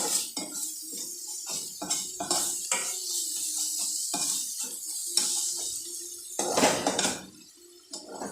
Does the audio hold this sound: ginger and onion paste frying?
yes